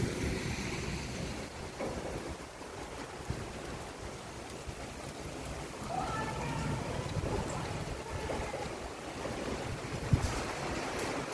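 Heavy rain and gusting wind roar steadily outside a food stall in Kolhapur, a dense broadband wash with occasional louder gusts.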